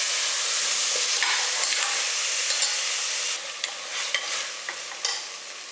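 Chicken with ground onion paste sautéing in a pan, heard as a loud, continuous close sizzle. It eases a little partway through, and faint clinks of stirring show up now and then.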